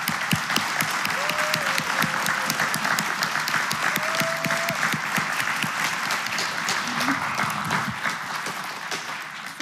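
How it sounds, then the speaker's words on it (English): Church audience applauding the cast and crew, dense sustained clapping from a crowd that holds steady then tapers slightly at the end, with faint voices underneath. "Let's give them all a huge round of applause."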